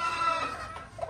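Chickens clucking in farm breeding pens, a steady murmur of hens close by with one brief sharper cluck near the end of the short stretch.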